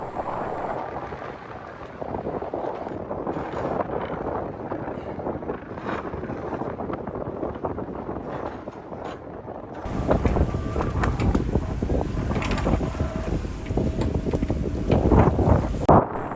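Wind gusts buffet an anchored sailboat near the Corinth Canal, a continuous rushing roar with microphone wind noise that grows heavier and louder in the second half, without speech.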